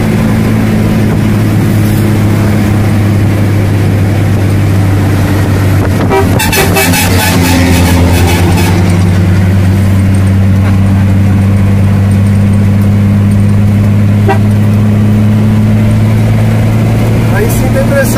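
A truck engine drones loudly and steadily on the road, rising in pitch as it accelerates, with a short burst of rattling noise partway through and speech over the engine.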